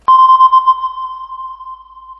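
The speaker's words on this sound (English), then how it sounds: "Maybe it was in a movie about submarines, because that is a ping." A single sonar ping like those in submarine films: a sharp attack followed by a pure sustained tone that slowly fades, clean and isolated.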